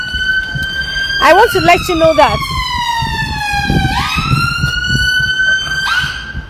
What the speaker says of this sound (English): I want this ambulance to go pass.